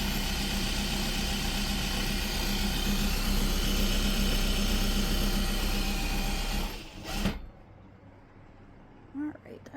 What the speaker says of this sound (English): So this is the servo motor that drives the whole machine.